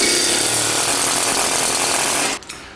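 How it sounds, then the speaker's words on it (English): A Husky air chisel drives a bearing race off a wheel hub, a loud, continuous rapid hammering rattle up close that stops abruptly near the end. "just an ordinary air chisel made by Husky"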